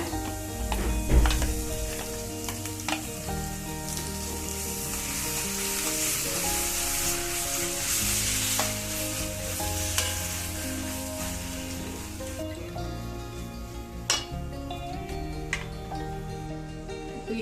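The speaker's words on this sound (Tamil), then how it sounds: "தக்காளி நல்லா வேகிற வரையும் வதக்கிக்கலாம்." Chopped tomatoes sizzle steadily in a hot pan for mushroom butter masala, a loud continuous crackle broken by the occasional scrape and clink of stirring.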